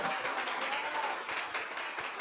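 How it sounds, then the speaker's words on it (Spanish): A church congregation gives a round of praise applause, a soft, fairly distant patter of many hands clapping steadily for the whole short stretch. "Puede darle una alabanza de aplauso"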